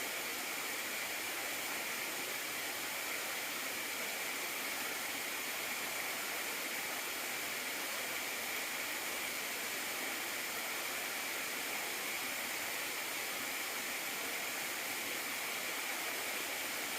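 Beaver Brook flows beside a mountain hiking trail on Moosilauke, a steady broadband rush of water that holds constant and even throughout without any breaks.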